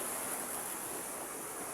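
A river at Bluerock flows in a steady, full rush of water, close and continuous throughout with no voices.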